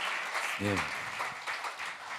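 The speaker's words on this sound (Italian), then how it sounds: "Let's applauso. clap for the Lord again." A church congregation claps during a Sunday service, a continuous moderate wash of applause with a brief voice rising above it partway through.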